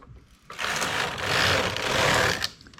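A knitting machine's ribber carriage sweeps across one row, a loud, close mechanical whirring rush lasting about two seconds, rising in quickly and cutting off after brief quieter clicks.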